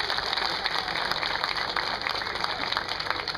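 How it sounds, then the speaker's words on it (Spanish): Steady audience applause fills the space at a rural Cuban-style music evening, a dense wash of clapping hands that stays loud and even throughout without letting up. "Quiero el aplauso para Jorge Ferreira desde Valverde Mao."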